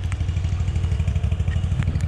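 A Bad Boy Elite zero-turn mower running outdoors, its engine producing a loud, steady mid-range drone with a slightly pulsing, clattering texture.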